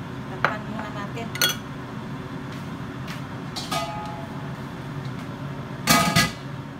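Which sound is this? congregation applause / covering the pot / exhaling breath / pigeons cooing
covering the pot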